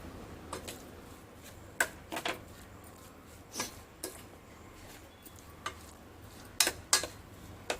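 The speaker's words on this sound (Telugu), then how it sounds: "సాల్ట్ వేసుకున్న తర్వాత ఒకసారి అంత కలుపుకోవాలి" Spoon scraping and tapping against a pan while potato filling for Karnataka masala dosa is stirred after salt goes in, quiet irregular clicks and knocks with brief pauses between them.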